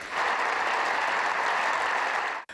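US congressmen applaud a speech by the Ukrainian president in a broad, even wash of clapping that stays steady for a couple of seconds, then cuts off abruptly near the end.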